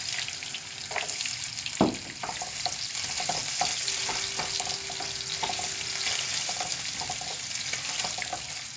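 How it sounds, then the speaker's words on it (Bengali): Shrimp frying in oil with garlic and coconut in a pan, a steady close sizzle with a sharp clatter as something is dropped in, followed by repeated stirring scrapes. "দিয়ে দিচ্ছি চিংড়ি মাছ।"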